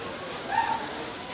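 A Naphta Kalpara pigeon gives a single soft, brief coo, faint and somewhat distant against a quiet background hiss.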